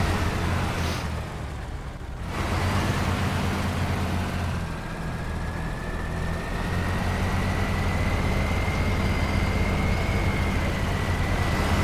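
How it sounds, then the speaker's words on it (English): A truck's turbo whining under load in SnowRunner, a rising whistle that climbs slowly over a heavy, continuous engine drone, loud and unbroken apart from a brief dip early on. "You can tell when it's doing some work because that turbo really starts to whine up."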